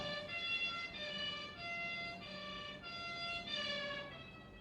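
A wailing siren rises and falls in repeated cycles, heard faintly and at a distance.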